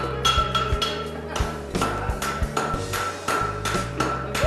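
A farrier's sledgehammer strikes hot steel, drawing down and wedging up the heel of a horseshoe on an anvil; steady, loud, ringing blows land about every half second, each one sharp and metallic.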